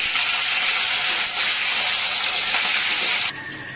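Potatoes dropped into hot oil tempered with whole cumin seeds, a loud continuous high sizzling hiss that cuts off abruptly near the end.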